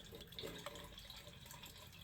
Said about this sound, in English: gas is kind of pouring back in here